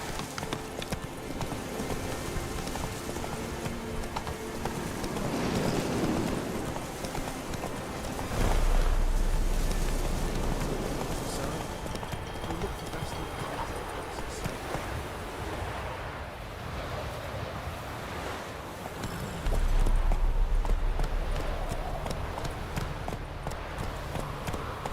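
Roach the horse galloping in The Witcher 3, with soft clip-clop hoofbeats running under a dense wash of wind and surf-like ambience, steady and mid-distance throughout.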